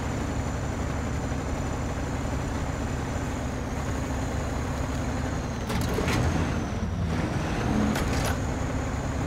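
Tractor engine in the SnowRunner game, droning steadily and loud while crossing a farm field, with a couple of brief louder bumps or clunks near the end and no talk.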